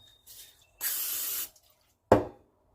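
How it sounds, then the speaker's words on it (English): A short, steady hiss of cooking oil aerosol spray lasting under a second, close by, followed by a sharp clunk of a can being set down. "This I'm definitely going to spray."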